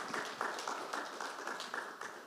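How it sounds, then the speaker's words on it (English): An audience at a conference panel on prosecuting corruption claps for the panelists on stage. The clapping is fairly faint and distant, a steady patter of many hands that runs for a couple of seconds. "give a round of applause to the panelists that are up here on stage"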